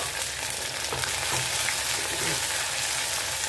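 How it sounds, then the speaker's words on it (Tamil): Okra frying in a pan with sautéed tomatoes for a vendakkai kuzhambu, a steady close sizzle with faint stirring scrapes running throughout, no voices. "இப்போ தக்காளி வதங்கி சுற்றும் போது நம்ம வெண்டைக்காய்களை சேர்த்துக்கலாம்."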